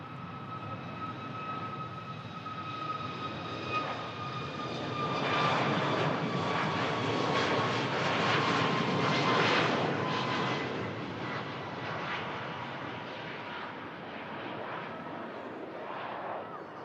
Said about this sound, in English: And now on the roll, we have the Ryanair for Tenerife South.